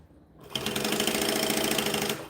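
A sewing machine stitches bonded nylon fabric, starting after a short quiet moment and running in a fast, steady, close-up whirring rattle for about two seconds before stopping.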